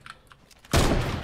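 A sniper rifle shot in Fortnite, one sudden loud crack that cuts in after a quiet stretch of faint clicks and then rings out with a broad noisy decay.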